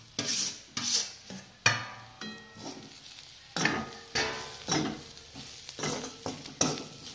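Bitter gourd tossed into a pan and stirred, with a run of scraping, rubbing strokes and light sizzling in an irregular rhythm, close and fairly soft.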